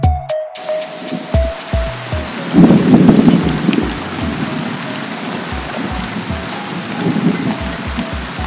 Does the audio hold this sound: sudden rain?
yes